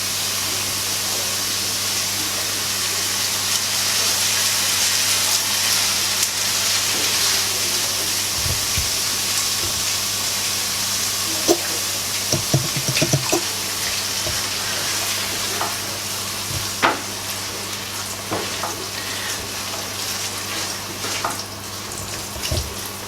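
Liquid being poured slowly into a hot roux for a white sauce and stirred in a pan, a steady loud sizzle with scattered scraping and bubbling sounds from the stirring, no talking.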